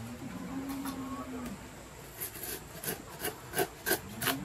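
Tender Konkani sprouts, the soft young shoots, are cut for a village recipe. Soft scraping and rubbing runs throughout, then a series of short crisp cuts falls in quick succession near the end, close and fairly loud.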